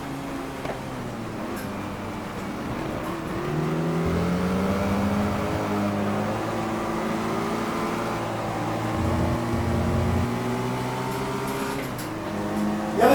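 A car engine in a racing video game played on a DIY motion simulator rig, droning and rising in pitch in steady revving sweeps, with no talk over it.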